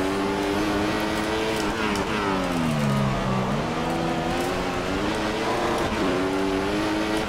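Racing engine of an F1 car in a PC video game, a steady high whine that dips and climbs with gear changes and throttle, continuous and loud throughout.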